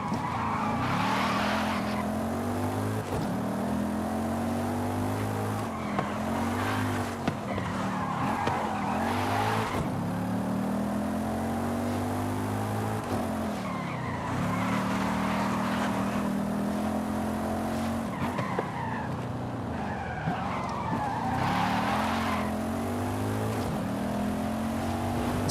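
Tires screech and an engine revs in a continuous, loud stretch of drifting and skidding from a car in the video game Forza Horizon 5, with squeals rising and falling in repeated bursts over the steady motor drone.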